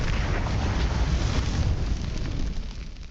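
The Confringo explosive spell from Hogwarts Legacy bursts in a loud, broad roaring blast that rumbles and slowly fades over a few seconds.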